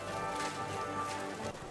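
Horse hooves clip-clop in Kingdom Come: Deliverance 2, a quick, steady rhythm of hoofbeats heard moderately close under a faint tonal hum.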